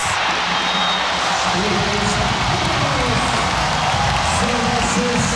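A crowd claps and cheers after a kill in a men's college volleyball semifinal between Hawaii and UCSB, a broad steady wash of applause under a commentator speaking throughout.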